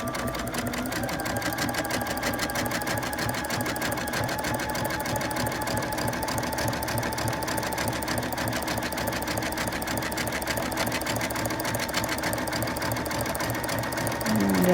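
A sewing machine runs a steady zigzag stitch over cuddle fabric appliqué, covering a running stitch. Its fast, even mechanical whir and rattle run loud and close without a break for nearly fifteen seconds.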